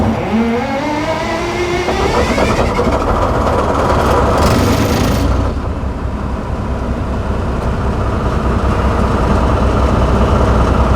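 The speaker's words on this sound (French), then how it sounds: "Donc il est déjà chaud, il a tourné ce matin, donc on va pas attendre la préchauffe moteur. On va lancer directement." A heritage tourist train's locomotive engine, already warm from running that morning, cranks and fires up with rising then falling tones before settling into a loud, steady diesel idle close by.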